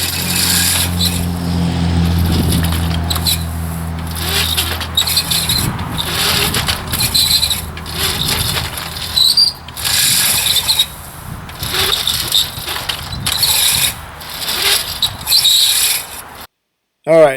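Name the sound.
mower cutting through tall grass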